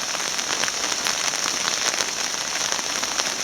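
Steady rain falls on roof tiles where a bee swarm shelters, a dense continuous patter of drops close by, even in loudness throughout with no voices.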